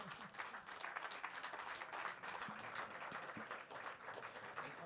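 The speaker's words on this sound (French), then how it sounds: "Vous pouvez applaudir tout le monde, c'est super." An audience at a professional certification training session applauds. The clapping is a faint, distant and continuous patter with no break.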